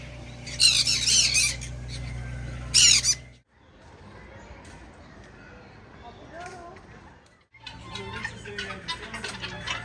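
Raucous squawks from large caged birds at a zoo aviary ring out in loud bursts near the start and again later, while a person talks through much of the scene amid general outdoor background noise.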